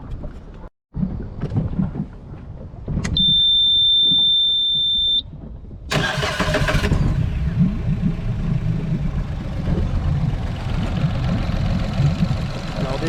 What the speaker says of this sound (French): on va mettre le premier tour de clé et voir comment ça tourne déjà au ralenti